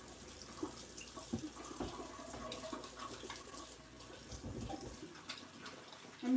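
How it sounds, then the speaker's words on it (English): Hands are washed under a running tap at a sink, with a soft, steady water flow and faint splashing that stops near the end, fairly quiet throughout. "I gotta wash my hands"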